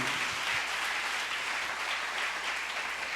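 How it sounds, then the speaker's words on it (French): An audience applauds at a church conference, a dense, steady wash of clapping that holds loud and continuous from start to finish with no voices over it. "acclame pour le Saint-Esprit"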